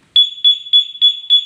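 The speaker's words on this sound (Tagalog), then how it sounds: "Tapos pag niyanig mo ulit, ayan, mag-alarm na siya." A two-way alarm fitted to a Honda Click 125i motorcycle sounds loud, close, piercing electronic beeps, five evenly spaced pulses in quick succession with nothing else heard.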